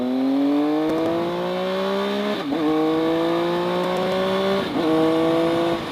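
A 2012 Triumph Speed Triple motorcycle accelerating hard, engine pitch climbing smoothly through two gear changes with a brief dip at each shift, loud and close throughout.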